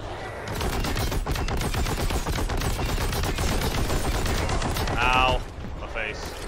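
Heavy bolter gunfire in the Warhammer 40k Boltgun video game, a dense, continuous rapid barrage of loud shots running throughout, with a brief brighter burst near the end.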